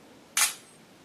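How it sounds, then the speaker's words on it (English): A single crisp shutter click from a Motorola Droid Razr HD smartphone camera, close and clear against a quiet background. "you can point to focus and hit the shutter button"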